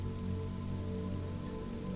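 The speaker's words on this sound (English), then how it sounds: "Sheets of rain over the water." Heavy rain in the video game Disco Elysium, steady sheets pouring over water with a dense, even hiss and a low droning hum beneath, continuous and close, no speech.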